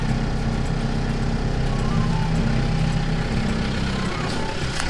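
A 2018 Mahindra Roxor turbo diesel engine idling close by, a steady low rumbling drone with a faint knock, without pause for the whole stretch.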